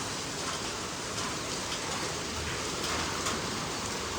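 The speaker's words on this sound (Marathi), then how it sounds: "हा पाऊस पडतो एकदम खतरनाक असा पाऊस" Heavy rain pours steadily during a sudden downpour, as heard from a gallery or balcony, a dense, even hiss of drops close and loud throughout, with no voices.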